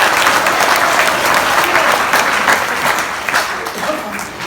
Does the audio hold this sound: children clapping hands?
yes